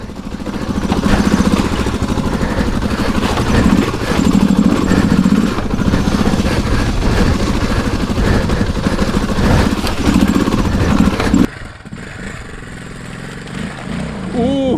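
A motorcycle fitted with tractor tyres climbs a hill, its engine droning loud and close with throttle swells before dropping to a quieter idle-like note near the end.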